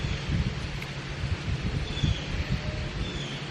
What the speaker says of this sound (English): Sorry, I know it's super windy.